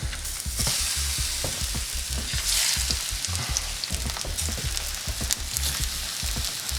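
Plantain slices lowered into very hot oil in a pan sizzle loudly and steadily at close range, with continuous crackle and bubbling plus scattered knocks and shuffles of pieces being laid in and moved.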